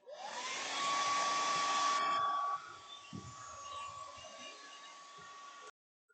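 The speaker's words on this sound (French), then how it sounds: "On fait sécher cette façade-là au séchoir." A hair dryer blows steadily on a Nintendo console faceplate, loud and close, its broadband whoosh dropping in strength after a couple of seconds as it is moved or switched to a lower setting, with a faint thump near the end before it cuts off.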